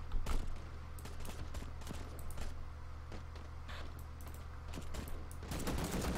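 Gunfire in a multiplayer battle in the video game Call to Arms, dense rapid shots in a continuous fusillade, loud and close, without talk.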